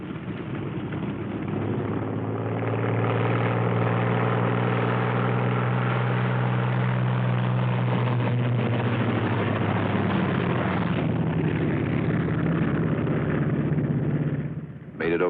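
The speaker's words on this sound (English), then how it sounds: "First pair off. Second pair taxis out." World War II fighter planes rumble loud and steady as their piston engines run up to taxi and take off, a sustained droning roar that swells and then fades slightly near the end, with no voices.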